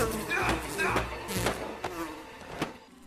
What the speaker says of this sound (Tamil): அவன் காதுக்குள்ள இருந்து நிறைய தேனிங்க பறந்து வர ஆரம்பிக்குது